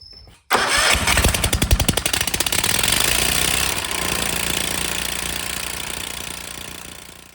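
Exmark Lazer Z riding mower engine fitted with a new starter cranks briefly, then catches and runs loud and steady with a rough, throbbing idle that settles slightly over several seconds, no voices.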